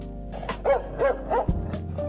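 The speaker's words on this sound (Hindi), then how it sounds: "तभी इसको देखते ही कुत्ते जोर जोर से भौंकने लगते हैं।" Three or four loud barks from a dog, evenly spaced over about two seconds, with a low steady hum underneath.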